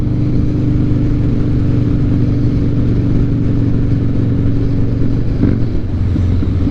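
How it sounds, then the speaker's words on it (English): A Harley-Davidson Night Train motorcycle idles with a steady, loud rumble, its throttle gunned for brief revs near the microphone; the engine drone stays continuous throughout with no talk. "I do notice that when I gun the throttle like that, I do notice it jumps a little bit better than it did before"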